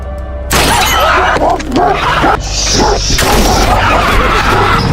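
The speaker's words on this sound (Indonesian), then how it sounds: "anjing Ali yang berisik karena merasakan kehadiran Fez" In a film scene, a dog barks from inside a car, with loud, frantic yips and barks mixed into a chaotic, crashing mix of noise and commotion.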